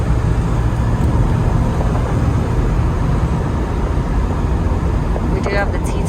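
Steady low rumble of a 1973 Chevrolet Corvette with a 4-speed manual cruising along with T-tops on and AC running, a constant interior drone with road noise and no clear gear change.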